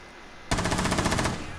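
A fast burst of automatic gunfire in Rainbow Six Siege, a loud rattling string of rapid shots that starts abruptly after a quiet moment and keeps going to the end.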